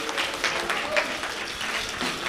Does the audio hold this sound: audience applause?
yes